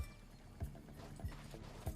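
Horse hoofbeats in the western video game Far Far West, a steady clip-clop of soft thuds at even intervals, faint and close under a low background hum.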